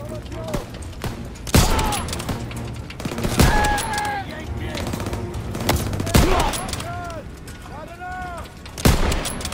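Gunfire from a World War II era gun in the shooter game Call of Duty WWII, with several sharp shots spaced across the stretch amid a dense game soundscape of clanks and effects, fairly loud and close.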